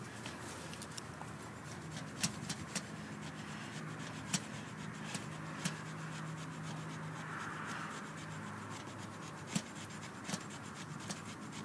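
A knife scrapes thin wood shavings to start a campfire, a run of close, dry rasping strokes with occasional sharper scrape clicks over a faint background hum.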